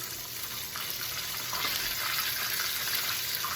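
Close, steady sizzling of chicken frying in a pan, a dense hiss that swells slightly midway and holds, with no talking.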